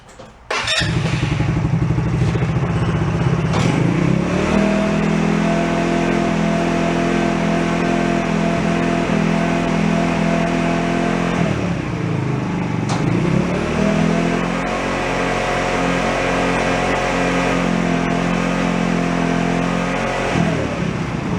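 An ATV engine with a freshly adjusted carburetor revs loudly and steadily up close, holding high throttle for about ten seconds, dropping briefly, then revving up again and sustaining, with no talk over it.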